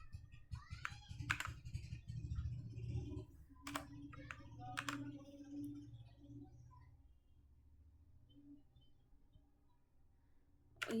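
Python code being typed on a computer keyboard, short bursts of close keystroke clicks with pauses between, over a low background rumble.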